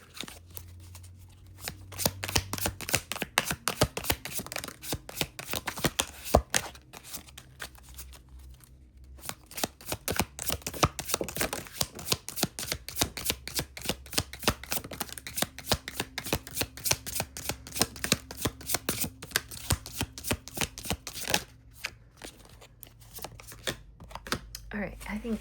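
A deck of oracle cards is shuffled over and over during a card reading, giving a long, fast run of crisp riffling snaps and flutters close up, with a short pause midway and a voice now and then.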